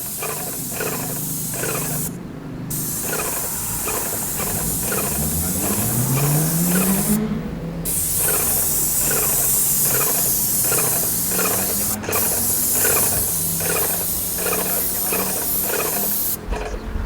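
A Graco Magnum airless paint sprayer hisses steadily while coating the grooved wooden boards of a small garden shed, a loud continuous spray broken by a few brief pauses, with a low engine-like hum underneath.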